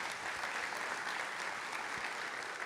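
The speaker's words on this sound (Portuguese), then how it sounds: "Quem crê, aplaude ao Senhor" A church congregation applauds steadily during a sermon, a continuous, even wash of clapping heard from some distance, fairly faint and unbroken.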